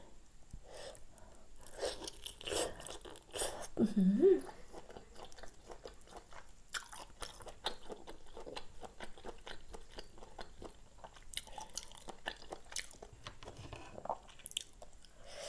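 Close, wet chewing of grilled giant river prawn meat, with soft crunches and squishy bites in irregular bursts, loudest around the middle and continuing steadily without talk.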